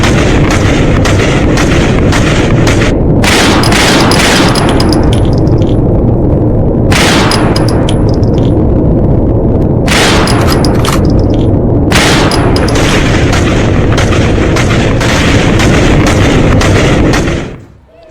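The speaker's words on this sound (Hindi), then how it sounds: "ये बीच सड़क गोलियां चला रहे हैं" Street gunfire during a protest, with loud sharp bangs and clanging impacts recurring through dense, constant noise, close and heavy until an abrupt drop at the end.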